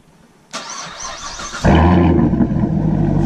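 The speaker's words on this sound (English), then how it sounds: "that sounds way louder on startup" A starter whirs briefly, then a C7 Corvette engine with mufflers removed fires up and settles into a loud, deep, raspy idle that rumbles steadily and close by.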